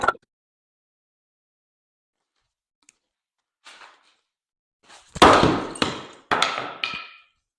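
Hammer blows knocking out a wall while making a door: a few faint taps, then a cluster of loud, sharp impacts with crumbling debris near the end, close and isolated with no talk.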